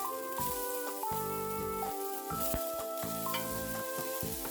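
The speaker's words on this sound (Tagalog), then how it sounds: "Una, gisahin ang bawang sa medium fire. Sunod ang sibuyas," Garlic and onion sauté over a medium flame for a Bicol Express, a continuous hiss of frying with repeated clanks and scrapes of a utensil against the pan, under steady background music.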